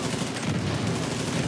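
Dense, sustained automatic gunfire from a firefight in Tom Clancy's The Division 2, a loud continuous rattle of shots filling the short stretch with no pauses.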